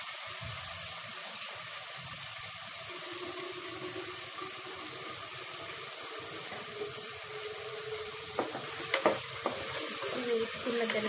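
Onions and tomato frying with turmeric and ghee for mutton curry, a soft continuous sizzle, with a few louder stirring clatters near the end and no speech.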